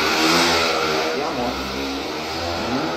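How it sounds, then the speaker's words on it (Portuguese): A moped engine drones steadily and fairly loud as it passes close by, its buzzing hum staying strong for about three seconds with a faint rise at the end. "aquelas mobiletes, aquelas bicicletas que faz mais barulho do que anda"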